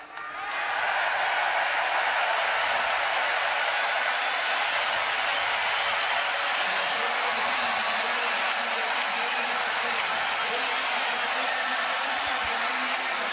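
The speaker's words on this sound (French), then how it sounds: "Devant une foule en délire, il y a des drapeaux partout, ça crie, ça soutient, ça applaudit, ça encourage les biathlètes" Large outdoor crowd at the start of a men's biathlon relay at the championships roars and applauds in a steady, dense wash of cheering that swells in and holds loud for over ten seconds.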